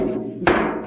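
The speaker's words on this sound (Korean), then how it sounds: "요거를 망치로 살짝 두드려 줘야 됩니다" A hammer strikes once against the sharp rim of a tin can being made into a candle heater, giving a single close metallic tap over a steady background hum.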